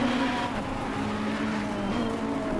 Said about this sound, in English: There's an angry Lambo behind me.